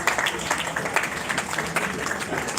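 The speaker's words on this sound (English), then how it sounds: "Can we please keep the applause going for the winners?" Applause from an audience for the winning team at an awards presentation, a steady patter of clapping at moderate distance throughout, without pause.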